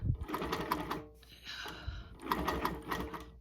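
A quilting machine stitches free motion in two fast buzzing bursts separated by a short pause, close and fairly quiet, with no talking.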